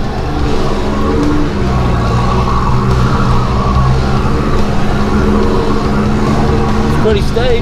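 Off-road vehicle climbing a steep hill, its engine droning loud and steady for the whole stretch with a brief rise near the end, heard alone and close without anyone speaking.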